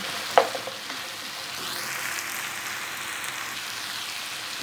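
Zucchini and eggplant tossed into a hot pan for a meaty vegetable stew, a steady close sizzle with a sharp clatter at the start as they are stirred, no talk.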